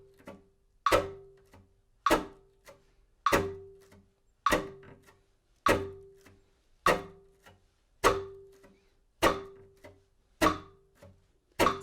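Crisp, percussive bow chops on a cello repeat at an even, steady pulse, about ten sharp strokes each decaying quickly.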